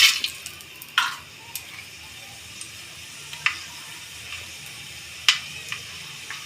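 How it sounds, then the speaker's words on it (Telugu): Mustard seeds tempering in a generous pour of hot oil for a village-style raw fish curry, a soft steady sizzle broken by a few sharp, scattered pops, close and on their own. "శనగమాత గింజలు పటాపటాని సౌండ్ వస్తూ ఎగుతుంటాయి కదా"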